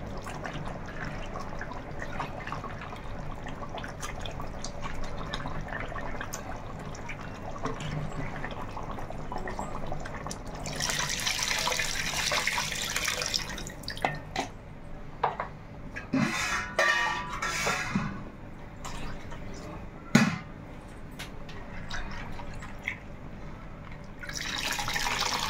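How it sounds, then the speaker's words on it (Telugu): Tamarind water poured into a pan of fish curry, a soft, continuous liquid pour and splashing that swells midway, with faint drips and clinks, moderately close and alone. "ఇప్పుడు చింతపండు పులుసు అయితే పోసుకుందాం."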